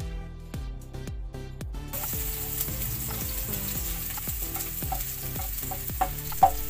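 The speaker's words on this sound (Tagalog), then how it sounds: "ngayon nagigisa ko na itong bawang" Garlic sizzles and sputters in hot oil in a wok while a utensil stirs it with repeated scraping knocks, loud and close throughout.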